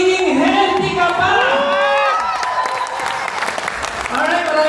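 A crowd at an awards event claps and cheers loudly and steadily, with whoops and shouted voices riding over a continuous wash of applause throughout.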